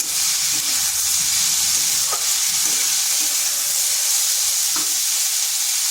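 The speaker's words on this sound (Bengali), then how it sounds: "এরপর আলু আর বরবটি এটাকেও আর একটু ভেজে নিচ্ছি।" Potatoes and yardlong beans sizzle steadily in a hot pan, a continuous close frying hiss with a few faint stirring clicks.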